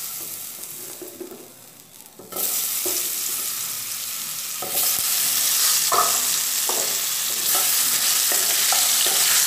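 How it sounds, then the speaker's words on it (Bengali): Potatoes coated in salt and turmeric fry in hot oil with nigella seeds, a steady sizzle swelling louder as pieces go in, broken by repeated scraping stirs of a spatula in the pan. "আলুগুলো দিয়ে একটু নাড়াচাড়া করে দেব।"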